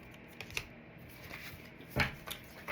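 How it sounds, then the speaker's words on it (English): Tarot cards being shuffled by hand, a soft papery riffle with a few sharper flicks and one louder burst near the end, close and quiet with no talking. "Shuffling for the collective energy."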